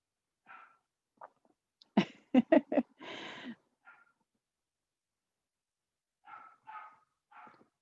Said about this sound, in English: My dog is going to bark all of a sudden.